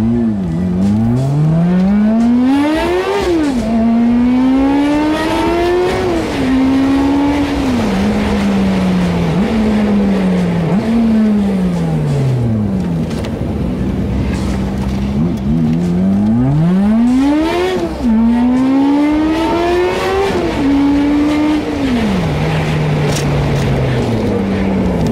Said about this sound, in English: we'll get inside, we'll go for a test drive